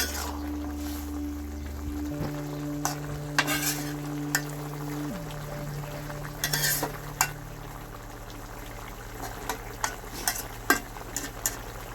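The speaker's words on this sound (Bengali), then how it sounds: "ভালো করে একটু নাড়াচাড়া করে মিশিয়ে নেব" A radish and fish curry nears the end of cooking in a pan, with a soft sizzle, wet stirring and clinks of the spoon over a low mechanical hum that shifts pitch partway through.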